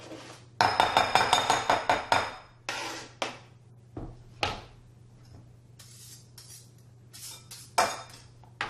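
Blue cheese dressing with chunks of cheese being mixed in a bowl: a quick run of rhythmic clinking as a utensil beats against the bowl, then scattered taps and scrapes, close and clear.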